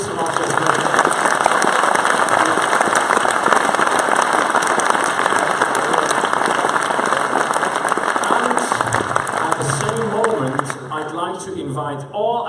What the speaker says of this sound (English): I beg you to remain on stage and give another big round of applause for Mr. Martin.